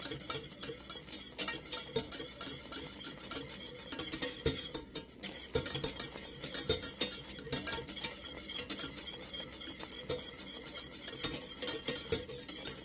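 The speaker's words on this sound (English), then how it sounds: "I just keep whisking this, checking it." A whisk beats a thickening cooking mixture in a pot for a pound cake recipe, giving quiet, close, rapid rhythmic metal clicks and scrapes that continue steadily for about thirteen seconds with no voices.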